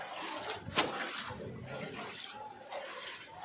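Rainwater flooded into a house during heavy rain, with shoes afloat: a continuous close wash of sloshing, churning water, broken by one brief sharper splash, with faint voices underneath.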